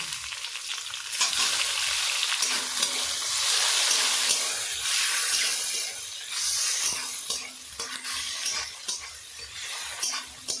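Chopped tomatoes hit a pan of fried onions, green chillies and panch phoron, setting off a loud, continuous close sizzle with occasional stirring and faint utensil clinks, no talking.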